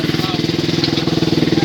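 An enduro motorcycle engine at a rally in Cacatí, Corrientes, thrums with a fast, even pulsing beat, close and loud, heard alone for under two seconds.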